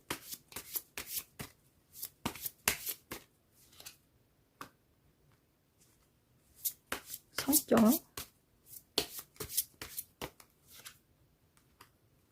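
Tarot cards are shuffled and handled close up in a series of crisp riffles, flicks and slaps, bursts separated by short pauses.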